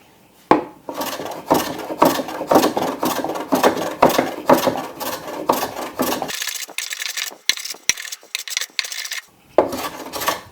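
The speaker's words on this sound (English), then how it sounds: "I'm going to go angular cut across the piece this way so I can shear the fibers off" Tool cutting at an angle across the end grain of proud dovetail ends on an armoire, shearing the fibers in a rapid run of scraping strokes, then a sparser few with short gaps, close and alone.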